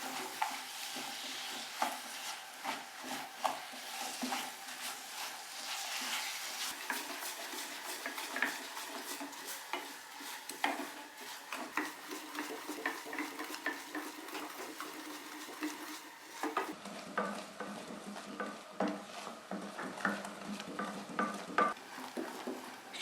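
Sugar melts over medium heat for caramel sauce while a utensil stirs it, giving a soft bubbling sizzle with repeated scraping strokes. The sound stays steady and close, then grows quieter and thinner near the end.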